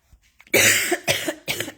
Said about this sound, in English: See if I can finish while I'm coughing.